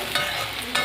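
Bottle gourd leaves with salt and turmeric fry in a pan, giving a soft sizzle. Two quick bursts of stirring scrape through it in under a second.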